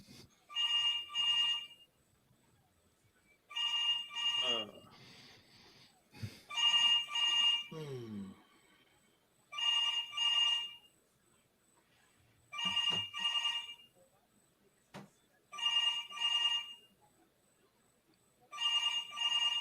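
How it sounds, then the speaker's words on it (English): A telephone rings repeatedly on an outgoing call, giving regular double-burst rings in an even rhythm with brief faint clicks between them and no talking. "Call Charles Barkley up."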